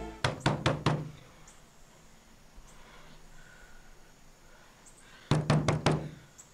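Two bursts of rapid knocking on a door, four or five sharp raps each, near and loud, with a quiet pause of faint room tone between them.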